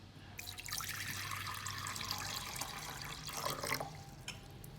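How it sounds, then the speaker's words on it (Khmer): Water is poured into a bowl to soak vegetables with salt while preparing a Cambodian beef salad. A steady splashing trickle runs close by for several seconds, with no talking. "ឥឡូវខ្ញុំយកចានមកចាក់ទឹកដើម្បីដាក់អំបិលចូលត្រាំ"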